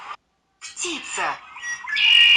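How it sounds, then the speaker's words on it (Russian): A bird lets out harsh, close squawks, starting with a brief call and then a longer run of rasping cries. "Птица."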